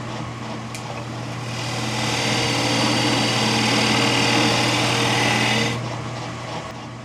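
Alder bowl blank, wet and spalted, spinning on a wood lathe while a tenon is cut into its bottom: a steady motor hum with a broad rushing hiss of the tool biting the wood, swelling for several seconds then easing off, no talk.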